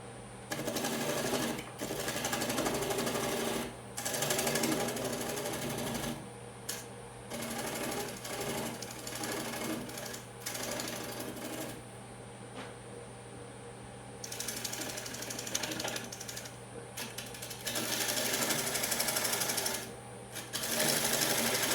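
Black oak spinning on a wood lathe at about 720 rpm, cut with a carbide tool: a steady machine whine with rough, broken scraping bursts that come and go as the tool bites and lifts.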